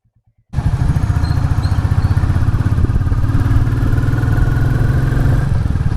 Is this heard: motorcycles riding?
yes